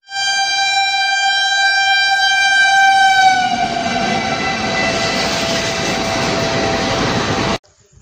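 A train pulls into Sangola station at midnight, bound directly for Goa: a loud, sustained horn blast for several seconds gives way to a steady, heavy rumble of rolling wagons, ending abruptly.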